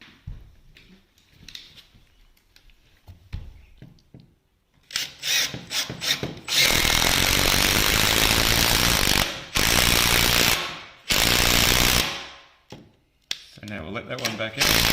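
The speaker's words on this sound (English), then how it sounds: "We're going to put the screw in the pre-sunk hole here, countersink it, and then we're going to just adjust our screws." A power driver sets screws into the wooden parts of a Byron cabin kit, with loud sustained whirring bursts broken by short pauses after quieter handling sounds at the start.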